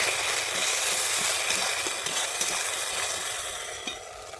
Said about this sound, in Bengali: কাজু টমাটো একটা পেস্ট করে নিয়েছিলাম ওটাকে দিয়ে দিচ্ছি আমি একটু মেরে দিচ্ছি